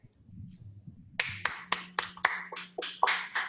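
A single person claps hands about ten times in an uneven, fairly quick rhythm, each clap sharp and close, following a soft low rustle at the start.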